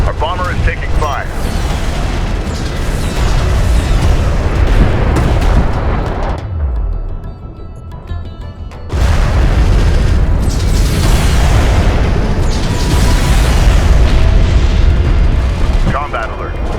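Heavy explosions and booming fire hit a bomber in the Homeworld: Deserts of Kharak strategy game, loud and rumbling, with a brief lull midway before the blasts resume, under radio-style voices.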